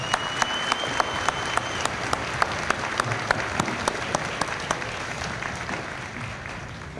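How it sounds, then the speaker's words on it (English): Audience applause at an army infantry battalion graduation ceremony at Fort Jackson, a steady crowd clapping with a few sharp, distinct claps standing out close by, gradually easing off. "Please give yourselves a big round of applause."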